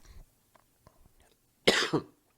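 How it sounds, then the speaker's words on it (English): A single loud, harsh cough bursts out alone after a stretch of near silence broken only by faint small noises. "other than the coughing"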